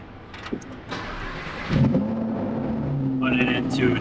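A Lamborghini Huracán STO with a matte stealth wrap starts up, the engine catching partway through and settling into a loud, steady rumble nearby.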